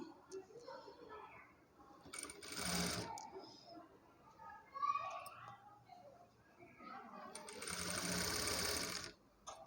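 A sewing machine stitches a blouse in short bursts, a fast rattling whir near the start and a longer run near the end, with quieter handling and faint talk in between.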